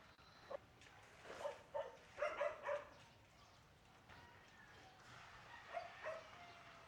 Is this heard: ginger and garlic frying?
no